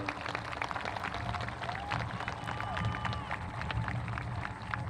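A high school graduation audience applauds steadily, a dense wash of clapping from a large crowd with a few louder claps near the front, continuing evenly throughout.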